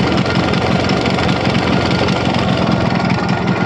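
A Yamaha RX100 motorcycle, in very poor condition after ten years unused, runs after being started, its engine holding a loud, steady, close-up idle with a rough, knocking texture throughout.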